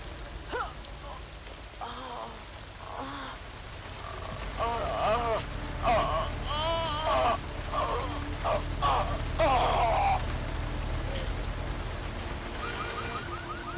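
Steady rain falling through the whole stretch in Deus Ex: Mankind Divided, a continuous hiss with a low rumble underneath, while characters speak and game sounds chirp and warble over it in the middle section.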